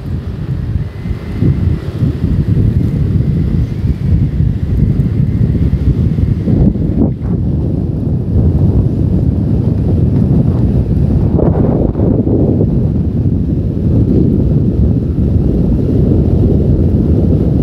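A Yamaha Aerox scooter ridden fast on a rough road produces a loud, steady roar of wind buffeting the microphone throughout, with the engine mostly buried beneath the gusts.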